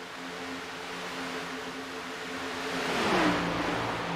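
Race cars in a sim racing game at Kentucky Speedway, running three wide in the back of the pack; a steady engine drone builds, then a car sweeps past near the end with a falling pitch.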